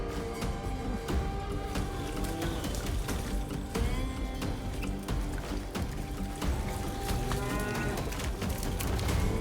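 A herd of cattle moos repeatedly on a cattle ranch in the American West in Oregon, overlapping low calls rising from a dense, busy background of hooves and shuffling that continues throughout.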